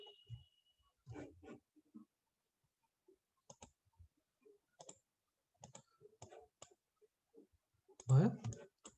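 A computer mouse clicks in scattered sharp taps and short bursts during UI design work, quiet and close, with brief bits of speech and a louder jumble near the end.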